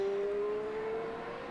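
A Toyota hybrid endurance race car at the 2014 6 Hours of Silverstone, running on a wet circuit, gives off a steady, eerie electric-sounding whine that holds one sustained pitch over a low engine rumble.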